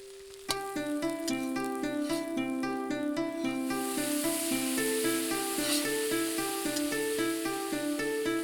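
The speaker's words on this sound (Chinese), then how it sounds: "快速翻炒。" Tripe and garlic chive stems are stir-fried in a wok, a hissing sizzle rising in the background beneath a loud, plucked instrumental melody that dominates throughout.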